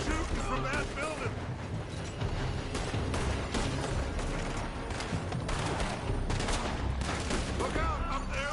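Gunfire in Red Dead Redemption 2 rattles out as dense volleys of overlapping shots from a building, loud and continuous, with voices shouting over the shooting.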